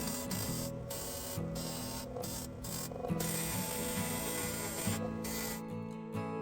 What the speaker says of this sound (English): Decided to try this chisel, and something tells me this is not what this tool was meant for.